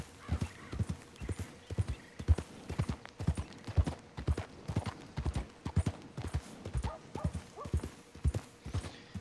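Horse hooves clip-clopping in a steady, even rhythm, close and clear, with a faint background and no talking, in the video game Red Dead Redemption 2.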